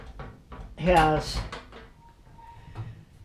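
Cabinet doors and drawers opening or closing in a barn workshop beside a metal lathe, a few short knocks and slides mixed in with someone talking close by.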